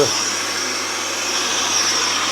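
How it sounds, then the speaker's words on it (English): A Hoover vacuum cleaner extracting sawdust from birch ply during kitchen-making work, a loud, steady, close whirring roar that holds constant throughout. "I'll turn the Hoover on to extract all"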